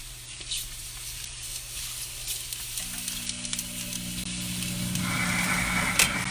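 Chicken pieces sizzle steadily in the heated pot of a deluxe cooking blender, a continuous close hiss that swells louder toward the end as the pieces are flipped, with light scraping and a faint electrical hum underneath.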